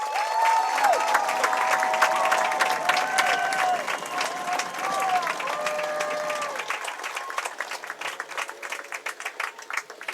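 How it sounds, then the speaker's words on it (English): A crowd at a school senior night gives the senior class a big round of applause, dense clapping with some cheering that thins out toward the end, while a voice carries faintly in the background. "let's give the senior class of 2024 a final big round of applause"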